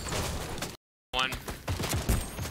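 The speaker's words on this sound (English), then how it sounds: "I'm getting shot from here somewhere" Rapid gunfire in Fortnite aimed at the player, bursts of close shots cut by a short silent gap, then more shots with someone talking over them.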